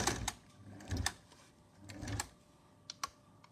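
A sewing machine stitches salwar belt fabric in short, quiet bursts of mechanical whirring separated by brief pauses, with a few sharp clicks near the end.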